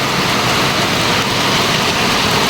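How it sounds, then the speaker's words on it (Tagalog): Rain falls steadily in Palawan on Christmas Day, a loud, close, unbroken wash of noise with no voices over it. "Ulan na."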